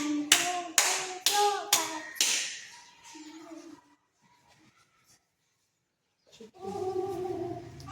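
Hand claps and finger snaps made for a classroom maths counting activity: a run of about six sharp, close claps, then a few softer clicks, a quiet gap, and voices talking at the end.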